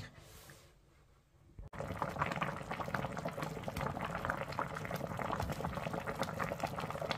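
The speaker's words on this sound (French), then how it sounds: "On va refermer la casserole et à feu moyennement fort, on va laisser tout ça gentiment bouillir." Pork seasoned with a Maggi cube simmering in a covered saucepan over medium-high heat, a steady bubbling boil that starts after a brief quiet moment and continues loud and even throughout.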